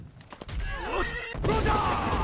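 Horse whinnying in the Skyrim video game, a rising and falling neigh mid-clip over steady game background noise, with a second fainter whinny near the end.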